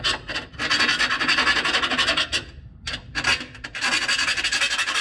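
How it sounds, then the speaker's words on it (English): A harsh, gritty rasping of a file scraping back and forth over a rough drilled hole in metal for a wideband oxygen sensor on a Lexus GS400, loud and close, in steady strokes with a couple of short pauses. "It's real rough, so I'm gonna file it"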